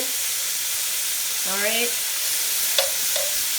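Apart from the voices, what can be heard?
oxtail searing in oil in a pot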